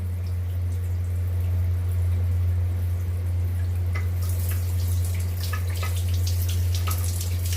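Tap water runs through a Sharp electric water heater under repair. A steady rushing hiss sits over a constant low electrical hum, and splashing grows brighter and more spattery partway through. No one speaks.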